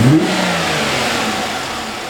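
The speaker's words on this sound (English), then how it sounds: "Now we're going to accelerate it a little bit and see what happens as we rev the engine." A car engine revs loudly and steadily as the accelerator is pressed, a close, continuous roar that eases off slightly over two seconds.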